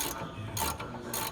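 A ratchet wrench tightening the manifold bolts on a Toyota AE86, giving quick repeated metallic clicking in short bursts, close to the microphone, with no talking.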